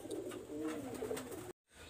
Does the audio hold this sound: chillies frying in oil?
no